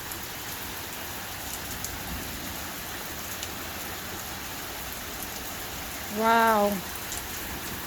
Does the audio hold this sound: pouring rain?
yes